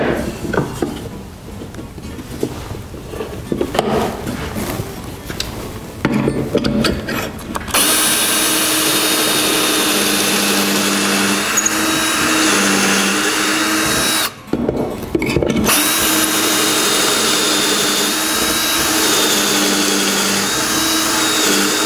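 A power drill bores pocket holes through wood held in a pocket hole jig for a face frame joint, a loud steady whine in long runs with brief pauses and restarts.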